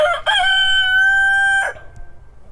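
A young rooster crows loud and close, one long sustained cock-a-doodle-doo lasting over a second, ending abruptly and followed by faint outdoor background noise.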